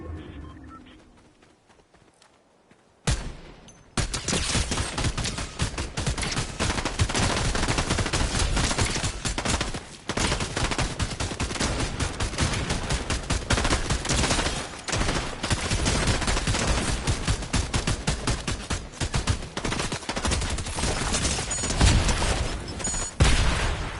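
Fortnite gameplay gunfire erupts after a quiet opening, then runs as dense, continuous rapid bursts of shots for about twenty seconds, loud and close, with brief pauses between volleys.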